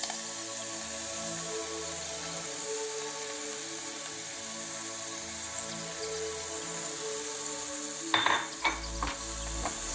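Chopped spring onions sizzle in a pan with a low, even frying hiss, and near the end a spoon or utensil scrapes and clinks against the pan in a few short knocks.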